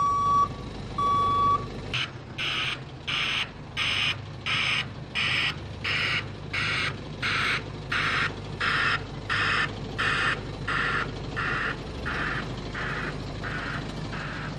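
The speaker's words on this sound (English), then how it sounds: "the BBS Tech back alarm is easier on the ear, yet just as effective as a conventional alarm" BBS Tech broadband reversing alarm on a vehicle, sounding a steady string of rhythmic hissing pulses that repeat evenly for several seconds, loud and near, preceded by two short pure-tone beeps; no talking.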